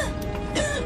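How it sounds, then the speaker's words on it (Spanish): A boy coughs once or twice, close and fairly loud, a short rough throat-clearing burst with a faint voice in the background. "Voy a comprarte algo para esa tos."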